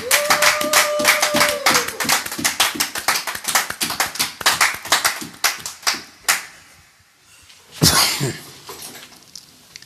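A church congregation clapping together in praise of the Lord: brisk, fairly close applause in quick bursts with a short whistle-like tone early, thinning to a pause before a final loud burst of claps.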